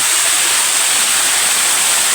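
A small waterfall pours into a stream where friends bathe, giving a loud, continuous close rush of falling water with no voices.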